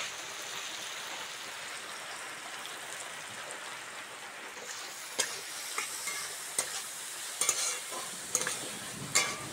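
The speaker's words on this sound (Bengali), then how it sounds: "ওই তেলের মধ্যে কুচানো পেঁয়াজ দিয়ে দেবো, পেঁয়াজ কুচি," Chopped onion frying in hot oil, a steady hissing sizzle that grows crackly with sharp pops and stirring scrapes in the second half, close and without talk.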